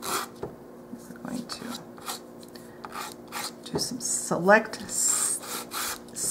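220-grit sandpaper rasps back and forth over a miniature dollhouse toolbox lid in short, soft strokes, fairly close, with a voice speaking briefly over it.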